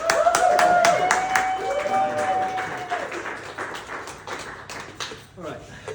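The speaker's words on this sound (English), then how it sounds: "So let's have a round of applause for Motomichi" Audience clapping at an artist talk, with sparse, distinct claps loudest at the start and tapering off, while a voice speaks over the applause.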